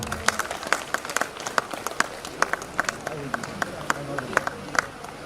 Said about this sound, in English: Let us invite with a big applause.